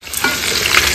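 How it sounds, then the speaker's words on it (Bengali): Fish and pumpkin pieces frying in a pan, giving a loud, steady close sizzle with stirring scrapes throughout. "মাছ ভাজা চলছে, কুমড়ো ভাজা"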